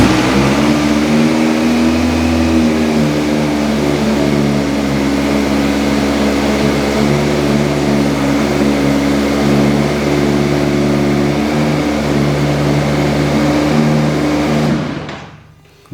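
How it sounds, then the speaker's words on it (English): World's fastest bike running after being started, a steady loud engine drone with strong low harmonics held at an even level for about fifteen seconds, then cutting off abruptly at the end. "why not celebrate the end of this video and the creation of 1/4 by starting this, the world's fastest bike here"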